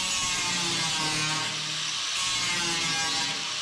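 A cutoff wheel slicing through sheet metal on a 1976 GMC truck panel gives a loud, continuous high-pitched grinding whine that holds steady from start to finish, up close.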